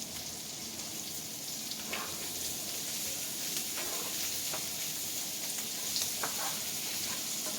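Food sizzles in a frying pan with rosemary while cooking a steak dinner, a continuous soft frying hiss with scattered small pops and crackles, steady and fairly quiet.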